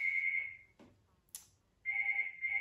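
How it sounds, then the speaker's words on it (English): A phone rings with steady electronic tone bursts, fairly clear against a quiet room, a couple of rings with a short gap between them. "That's my phone ringing"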